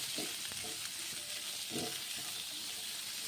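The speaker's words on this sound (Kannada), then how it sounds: "ಪನ್ನೀರ್ ನೆಂದಿರೋದನ್ನು ಹಾಕ್ಬಿಟ್ಟು ಸ್ವಲ್ಪ ಚಾಲು ಫ್ರೈ ಮಾಡಬೇಕು" Soaked paneer frying in butter in a pan gives a steady, close sizzle with a few brief stirring scrapes, and there is no talk over it.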